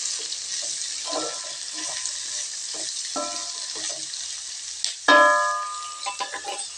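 Ingredients for masala chutney sizzle steadily in hot oil with a bright, constant hiss, broken by soft spoon stirs and a sudden louder burst of crackling near the end.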